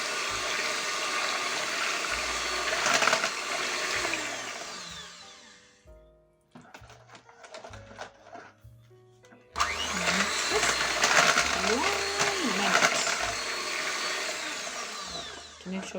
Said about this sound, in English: After mixing it like that, now we are done with the hand mixer